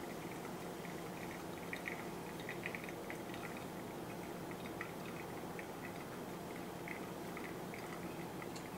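Hot water trickles in a thin, steady stream into a Kalita origami pour-over coffee filter, a quiet, continuous pour with faint liquid splashes and no talking.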